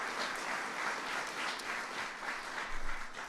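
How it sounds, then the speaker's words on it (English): Sustained applause from an audience at a White House ceremony honoring top police officers, a dense, even patter of many hands clapping at a moderate distance. "we very much want to give him a big round of applause"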